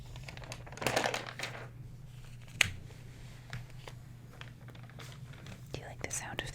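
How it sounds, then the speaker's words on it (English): Glossy magazine pages turning and crinkling up close in a quiet room, with a few soft rustles and one sharp crackle, mixed with faint whispering. "Do you like the sound of the page turning?"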